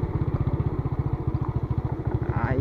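Motorcycle engine idling at close range with a steady low pulsing throb, a few brief clatters near the end as the bike is parked.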